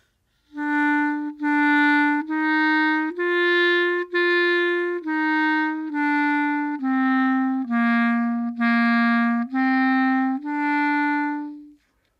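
A solo clarinet plays a steady run of separate, evenly spaced notes climbing and descending a scale, clear and close with no other sounds.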